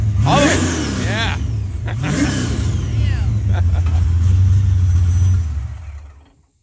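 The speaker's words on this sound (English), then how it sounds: "Rev it up, brother, till the shift light hits, it turns on." A race car engine revs hard up toward the shift light, loud and sustained with rising and falling pitch sweeps, then cuts off abruptly near the end; people talk over it.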